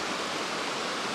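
Steady broadband rush of a river flowing past a camp spot in Scotland, continuous and fairly close with no breaks or voices.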